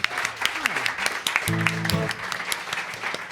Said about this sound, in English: Please give a nice big round of applause to Drew Jacobs, everybody.